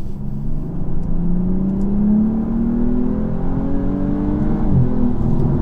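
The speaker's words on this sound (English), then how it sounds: "That B58 engine, they just sound so brilliant." A BMW M240i xDrive's B58 engine in Sport Plus pulls hard through a single gear inside the car, its pitch rising steadily in a loud, smooth rising drone before a brief shift dip near the end.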